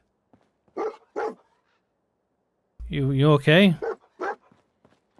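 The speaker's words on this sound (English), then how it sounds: "What are you barking about?" Dogmeat, the dog companion in Fallout 4, gives a couple of short barks and a longer whining yelp, close and fairly loud, with someone talking briefly in between.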